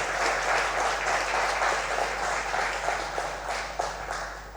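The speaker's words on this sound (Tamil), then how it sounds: "அவனுக்கு அந்த கலைக்கு எனக்கு பெரிய கைத்தட்டு கொடுங்க" Audience applause fills the hall as a crowd claps steadily for an artist, a dense, continuous wash of hands with a low hum underneath and no voices over it.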